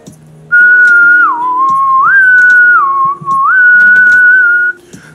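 A person whistles a sustained tone that glides up and down between low and higher pitches, sounding close and loud, with faint background noise and no talking.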